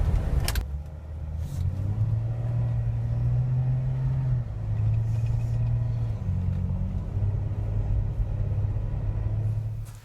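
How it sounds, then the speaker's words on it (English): A Jeep with a failing transmission drives along, its engine rumbling loud and steady close by, the low drone shifting pitch as it jumps abruptly between gears with no voices. "First, it just jumped through the gears just right then and there."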